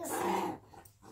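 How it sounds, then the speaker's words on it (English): Dogs snarl and growl in a brief scuffle at home, the rough growling loudest at first and then trailing off into quieter breathy noises. "Ty, Mossy, our dogs are fighting in the background."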